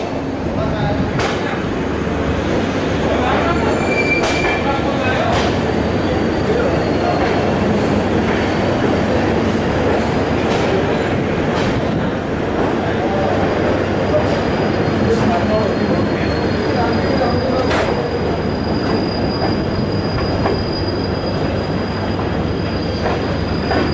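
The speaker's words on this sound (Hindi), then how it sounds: "12:14 पे हमारी ट्रेन निकल चुकी है गाज़ियाबाद से।" A passenger train, the New Delhi–Lucknow AC superfast special, pulls out of Ghaziabad with a loud, steady rumble of wheels on track, faint clicks over rail joints and high wheel squeals throughout.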